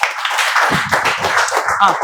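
Students in a spoken English class clapping briefly, a short burst of scattered hand claps close by, mixed with murmuring voices over about two seconds.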